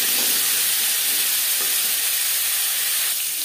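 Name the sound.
cauliflower and beans frying in hot oil with dried chilli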